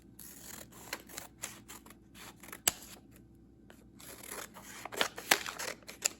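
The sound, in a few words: trimming a paper tax envelope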